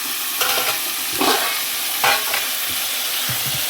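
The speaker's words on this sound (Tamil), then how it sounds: "வெங்காயம் வந்து இந்த அளவுக்கு வதங்கிடணும் உப்பு கறிக்கு வந்து நல்லா அந்த மெருன் கலரில் வதங்கிடணும்" Onions sautéing in a pan for Tamil-style uppu kari chicken give a steady close sizzle, with a few louder bursts of stirring and scraping.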